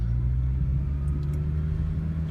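A 2002 Honda CR-V with a 2.4L VTEC four-cylinder engine with about 230,000 miles, heard while driving as a steady low engine drone and road rumble inside the cabin.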